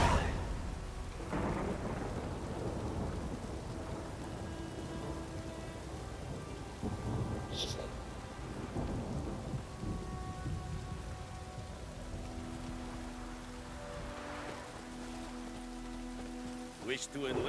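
In the video game The Witcher 3, steady rain falls throughout with deep thunder rumbling and rolling in the background, occasional brief voices and tones cutting in over the storm.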